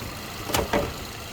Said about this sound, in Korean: 지금 시동 켜 있는 상태고요